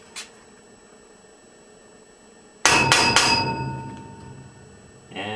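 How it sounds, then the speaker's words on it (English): A hammer strikes a punch against copper pipe: one faint tap, then three sharp metallic bangs in quick succession that ring briefly, followed by another light hit near the end. "we just need to bang a little dent in the copper"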